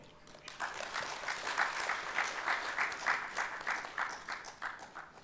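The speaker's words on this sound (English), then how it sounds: "Ladies and gentlemen, give a round of applause." Conference hall audience at an international mangrove sustainability conference giving a round of applause, a soft, fairly distant wash of many hands clapping steadily for several seconds.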